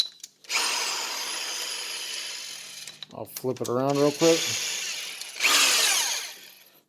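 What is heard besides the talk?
power drill spinning during RC motor maintenance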